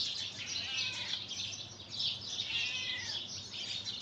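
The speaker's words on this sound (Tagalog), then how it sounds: "Ang ganda ng huni ng ibon." Several birds chirp and sing continuously at a moderate distance, overlapping high trills and tweets over faint background noise.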